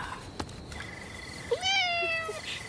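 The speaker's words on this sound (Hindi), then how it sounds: "हाँ, दूसरी बिल्ली।" A cat in a Hindi-dubbed South Indian action movie lets out a single drawn-out meow, rising then holding, close and clear over quiet background noise, preceded by a few faint clicks.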